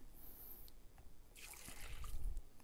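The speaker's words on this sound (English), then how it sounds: "Then we're going to add in our water." Water poured into a glue mixture for making a polymer slime, a faint trickling splash that swells in the second half of the clip over a quiet room.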